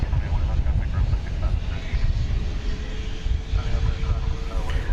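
An American Airlines Airbus A319 departs at night from an airport, producing a continuous low roaring rumble at moderate distance, with a voice talking over it.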